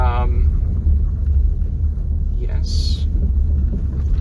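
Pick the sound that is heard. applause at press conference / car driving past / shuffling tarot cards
car driving past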